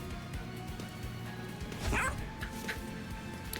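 A dog in the Monster Train 2 card game gives a short bark and whimpering yips over quiet game sounds, with a person talking softly around it.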